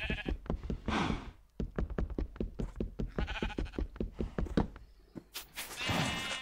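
Sheep in Minecraft bleat over and over, close and loud, their calls nearly overlapping in a busy rhythmic run with short pauses.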